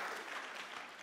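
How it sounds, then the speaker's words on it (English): Church congregation applauding the praise team after a worship set, a brief, faint, even wash of clapping across the room. "Yeah, you can give a round of applause."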